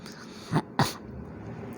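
A man imitates a sneeze with his voice during a physics lecture: two short, sharp bursts less than a second apart, followed by quiet room noise.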